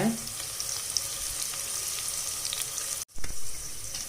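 Onions sautéing in a pan for a tomato bath, with a steady, close, continuous sizzle throughout and one brief dropout near the end, no voices.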